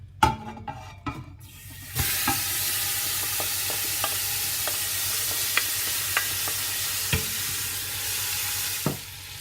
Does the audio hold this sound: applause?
no